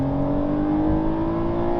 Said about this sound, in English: It's because it's powered by a twin turbocharged 3-liter engine making 443 horsepower and 390 pound-feet of torque.